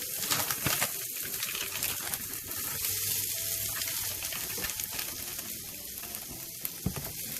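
Olives and sun-dried tomatoes sizzle steadily in hot oil in a pan for clam pasta, a continuous close crackling fry with small pops and faint bird cooing in the background.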